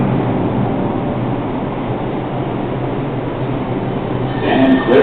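An R142A 6 train on the New York City subway runs at Brooklyn Bridge–City Hall loop, giving a loud, steady rumble with rail noise that swells slightly near the end.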